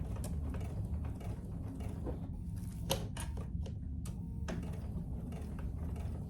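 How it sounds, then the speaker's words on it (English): A sewing machine stitches a half-inch seam on the inside of an oven mitt, its steady mechanical whir and clatter running close and continuous, with a few sharper clicks and knocks along the way. "I'm gonna sew it from the inside"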